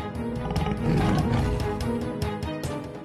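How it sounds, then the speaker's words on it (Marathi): A tiger growls and roars in a low, rumbling, sustained rumble, swelling near the middle, against a busy dramatic background with no talk. "वाघाच्या गुरगुरण्याचा आवाज।"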